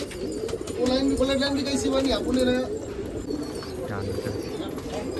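Pigeons cooing at a pigeon festival in Nashik, repeated soft throaty coos with a few chirps over a busy outdoor background with people talking.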